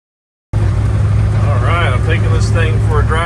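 A Can-Am Defender UTV drives through snow, its engine a loud, close, steady rumble starting abruptly after a brief silence, with someone talking over it.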